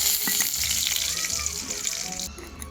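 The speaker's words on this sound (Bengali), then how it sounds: "এখন আমি কাজু বাদামটা, তেলটা গরম হয়ে গেছে, কাজু বাদামটা ভাজবো" Cashew nuts fry in hot oil with a dense, continuous bright sizzle, close and steady, that thins out abruptly just before the end.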